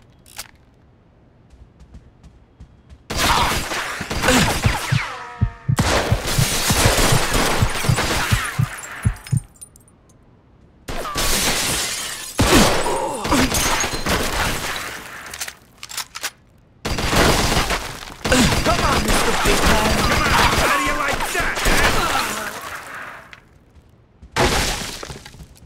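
Gunfire in a Mafia II shootout, bursts of rapid shots with breaking glass and ringing impacts, loud and close, separated by brief quieter gaps across the whole stretch.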